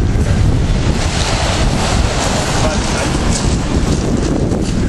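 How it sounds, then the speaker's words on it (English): Ocean surf and strong wind roar steadily at the black sand beach of Wai'anapanapa State Park on Maui, a dense continuous wash with heavy wind buffeting on the microphone. "We're at the Black Sand Beach right now."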